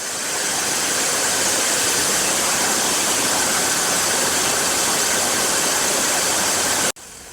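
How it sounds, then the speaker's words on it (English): Razor blade grinding machines run in a factory grinding workshop, giving a dense, loud, continuous roar and whir that holds steady before cutting off abruptly near the end. "Here is the grinding workshop."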